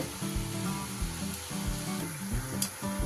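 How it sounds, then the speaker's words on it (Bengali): Kuncho nimki, small strips of fried dough, bubbling and sizzling steadily in hot oil, a close continuous frying hiss with soft low bubbling throughout. "দেওয়ার সাথে সাথে দেখুন আস্তে আস্তে কি সুন্দর তেলের ওপর ভেসে উঠছে নিমকিগুলো"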